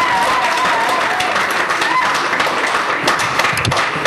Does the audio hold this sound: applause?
yes